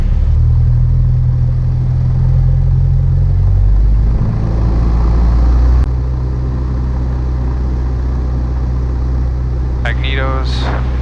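A light aircraft engine runs up to 1800 rpm during a pre-flight check at KFRG, a steady low rumble and drone heard close by in the cockpit, swelling partway through, with a voice speaking near the end.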